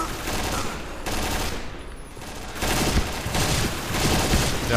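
Rapid automatic gunfire from the online shooter Point Blank rattles in loud, continuous bursts with a brief lull in the middle, dense and close.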